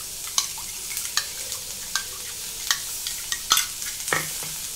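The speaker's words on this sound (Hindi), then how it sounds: "साथ में हम सब्जियों को भी भून लेंगे।" Vegetables and ragi flour are roasted and stirred in a pan, a spoon scraping and tapping the metal at a steady, repeated rhythm over a soft, constant sizzle, close and moderately loud.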